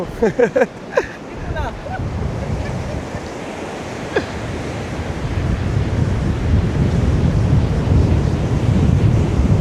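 Ocean surf rolls onto Lucky Bay beach in Esperance, with steady wave wash and wind buffeting the microphone, a few voices and bird-like chirps early on, then the wave noise swelling louder.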